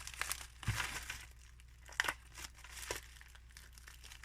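Package tape and cardboard being cut and torn open at close range, a few crinkling, crunching bursts with soft handling noises in between, from opening a mail parcel that held a dealer promo model of a 1978 Chevette.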